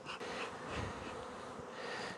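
A honeybee colony at an apiary hive hums in a dense, steady buzz, close and continuous, with wings rising and falling slightly over the whole stretch.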